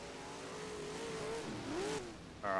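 A Big Block Modified dirt race car engine in the racing game rFactor drones and rises in pitch as it revs through a dirt track lap, steady and fairly loud with no talking, then a sharper higher engine note cuts in at the end.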